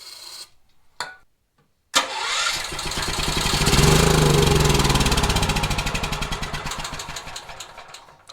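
A gasoline generator with its choke closed and fuel sprayed into the carburetor gives a couple of short cranking bursts, then catches and roars up loudly, running rough and uneven for several seconds before the sound begins to settle.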